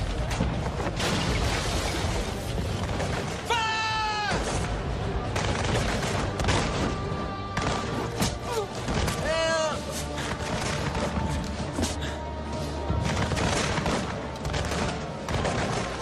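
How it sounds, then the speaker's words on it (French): Dense, continuous volleys of musket fire during a naval battle at Trafalgar roar on without pause, heavy and close, with booming blasts and crashes mixed in and a narrating voice over the din. "Durant 15 longues minutes, des tirs nourris et continus ravagent l'équipage anglais."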